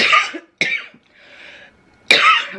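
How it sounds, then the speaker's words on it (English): Three sharp coughs, close and loud, separated by short pauses with a faint breathy sound between them. "not editing that out, we all cough."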